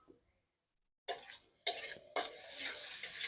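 Crab curry masala with salt and turmeric being stirred in a pan, heard as a few scraping, sizzling bursts that start after a silent second and then run on steadily, close and fairly quiet.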